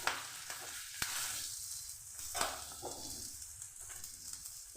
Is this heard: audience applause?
no